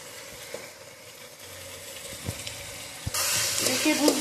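Chicken mince sautés in a pan with tomato sauce, a steady soft sizzle broken by a few stirring knocks, swelling into a louder, brighter hiss near the end.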